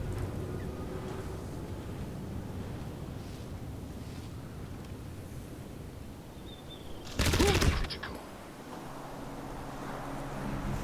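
Gunfire in the video game Crysis arrives as one short, loud burst of shots partway through, set against steady wind-like ambience before and after.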